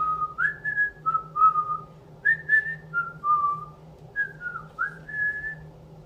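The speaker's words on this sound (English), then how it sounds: "He waved goodbye to his friends and whistled as he walked home" Whistled melody from someone walking home, a lilting tune of short rising and falling notes with brief pauses, clear and fairly close over a low steady hum.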